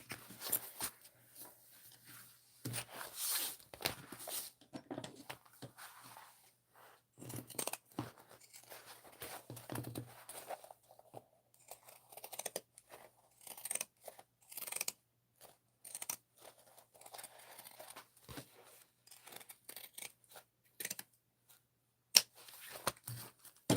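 Quiet, irregular snips and crunchy cuts of scissors through fabric near stitching, sewing a bowler bag, with small handling rustles between cuts and no speech.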